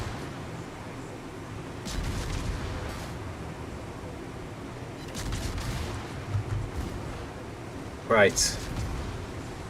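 Secondary battery guns fire in World of Warships, rumbling bursts of distant-sounding gunfire rolling under steady game noise, with someone talking over them.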